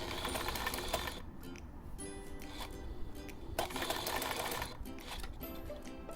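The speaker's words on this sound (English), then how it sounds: "Raise your foot again, adjust your fabric, and then stitch." A sewing machine stitches fabric in rapid mechanical bursts, with short pauses between runs and a nearby, fairly quiet rattling clatter.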